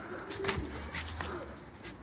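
A pigeon coos softly a couple of times, close by and faint, against light background noise.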